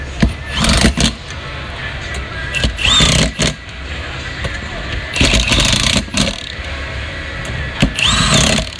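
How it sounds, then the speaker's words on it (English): A Milwaukee impact tool runs down beadlock ring bolts on a RZR off-road wheel at a busy expo, loud repeated bursts of hammering whir between pauses, with people talking over the noise. "We're using the Milwaukee."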